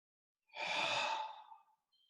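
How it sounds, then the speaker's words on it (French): A single long, breathy exhale during yoga abdominal breathing, close and soft, swelling quickly and trailing off over about a second, followed by a faint short breath. "Respiration abdominale 3 fois."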